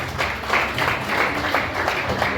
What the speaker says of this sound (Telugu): సూపర్, చప్పట్లు గట్టిగా.